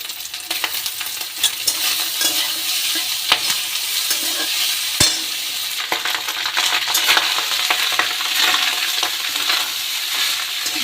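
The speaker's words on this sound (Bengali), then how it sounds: "রাইসগুলো দিয়ে এবার ভালো করে নেড়ে আমি তাকে নামিয়ে নেব" Cooked rice with carrots is stirred and tossed in a frying pan, a continuous bright sizzle broken by scraping spatula strokes and occasional sharp clacks against the pan, close and loud with no talking.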